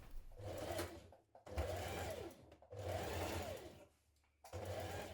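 A sewing machine stitches a neck facing in place on a fitted dress, running in four steady bursts separated by short pauses, close and clear with no talking.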